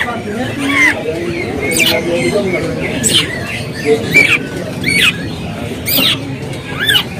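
A magpie robin sings short, bright whistled phrases repeated every second or so, heard over a low murmur of background voices.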